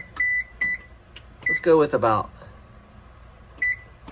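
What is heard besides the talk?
oven control panel beeps while setting preheat temperature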